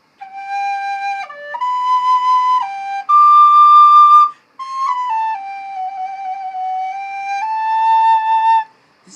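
A plastic recorder plays a slow melody of clear, breathy held notes that step up and down in pitch, loud and close, with brief pauses between phrases.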